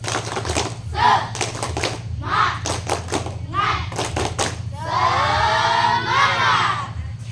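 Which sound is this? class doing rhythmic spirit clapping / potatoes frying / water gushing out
class doing rhythmic spirit clapping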